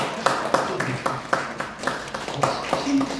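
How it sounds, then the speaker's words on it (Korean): A lecture audience at a well-dying course claps in a quick, steady rhythm for a visiting reporter, close and moderately loud, with a voice speaking over the applause. "장 기자님이가 박수 한번 쳐줘야 되겠네."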